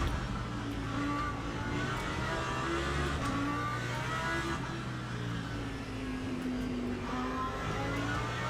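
A supercar in the Le Mans Ultimate racing game at Sebring gives off a continuous engine drone whose pitch rises and falls across the passage, moderately loud with no talk.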